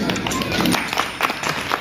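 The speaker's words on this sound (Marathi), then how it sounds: "आपण एकदा जोरदार टाळ्या द्या." Audience applause for a felicitation at Tapadia Natya Mandir, a steady wash of many hands clapping from a large crowd, fairly loud and continuous throughout with a few sharper bursts.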